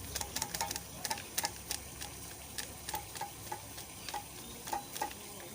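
A spoon stirs powdered milk for tea in a cup, making quiet, repeated light clinks in an uneven rhythm over a soft background hiss.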